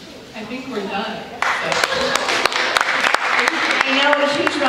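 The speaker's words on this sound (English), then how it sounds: "a huge round of applause" Sparse, uneven clapping from a small audience at a Pride Week event builds after a brief quiet stretch, with individual claps distinct and close, while a voice talks over part of it.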